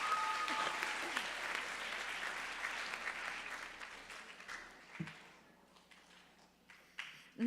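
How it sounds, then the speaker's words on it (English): Applause from a school assembly audience honouring seventh grade Outstanding Scholars, a sustained crowd of clapping hands that gradually thins and fades after about five seconds, with a few scattered sounds near the end. "Can we get a round of applause for all of our 7th grade Outstanding Scholars?"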